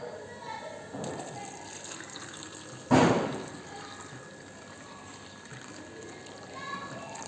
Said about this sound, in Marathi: आता ह्यामध्ये गरम पाणी घालायचं आहे।